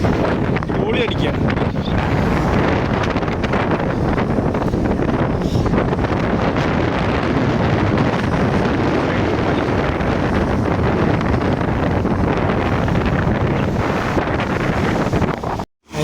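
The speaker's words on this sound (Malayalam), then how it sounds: "ഭയങ്കര കാറ്റിപ്പം മൊബൈൽ കയ്യിൽ ഹാൻഡിൽ ചെയ്യാൻ പറ്റില്ല, ഭയങ്കര കാറ്റ്" Strong gusty wind buffets a handheld phone microphone near open water, a loud, continuous low roaring blast that barely lets up until a sudden drop at the very end, with speech partly buried under it.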